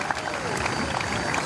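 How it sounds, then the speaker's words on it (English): A crowd applauds at a Stihl Timbersports competition in Australia, steady dense clapping and cheering held at an even level throughout, mixed with a busy arena background. "please give a big round of applause to all the ladies, but particularly just right now to Katrina here"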